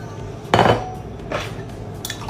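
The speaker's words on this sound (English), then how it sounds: "Mix up our vinegar and sugar." Vinegar and sugar are stirred together in a jar, with a couple of sharp clinks and scraping sounds of a utensil against glass, close and clear, with no talking.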